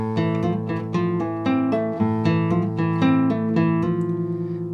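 Guitar playing the opening two bars of a tango piece, a brisk run of clear plucked notes in a steady tango rhythm, close and alone.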